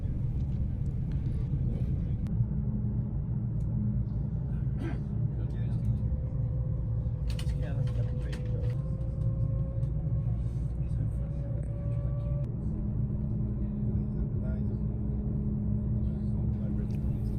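Inside a Eurostar carriage cruising through the Belgian countryside, a deep, steady rumble of the running train fills the cabin, with faint rising tonal whines and occasional clicks, and a voice talks over it.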